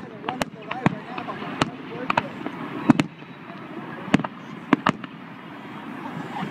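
Fireworks exploding at a fireworks show in Simi Valley, California, a scattered series of sharp distant bangs and cracks over crowd murmur and voices.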